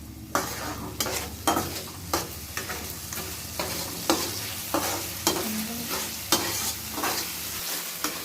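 Cashew paste, ground pepper and whole fennel seeds fry in oil in a pan on low flame, a steady sizzle broken by regular scrapes of a spoon being stirred roughly once a second.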